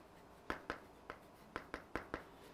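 Marker or chalk strokes on a board during a math lecture, a string of seven quiet, crisp taps and scrapes in an uneven rhythm, close and faint with no talk over them.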